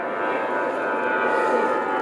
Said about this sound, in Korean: 비행기가 너무 많이 와요.